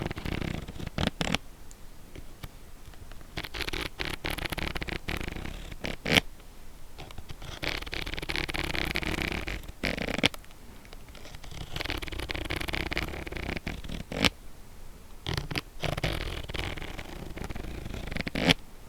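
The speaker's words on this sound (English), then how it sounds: "this bag also has a little zipper" A small zipper on a bag is repeatedly opened and closed up close, crisp rasping zips in quick bursts separated by short pauses.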